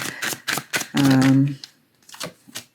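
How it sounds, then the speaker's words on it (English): Tarot cards are shuffled by hand in a quiet room, making several short, crisp riffling bursts in quick succession. A brief voiced sound comes partway through. "I just shuffle until the cards"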